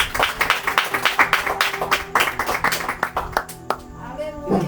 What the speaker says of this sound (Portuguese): Pode aplaudir a Jesus Cristo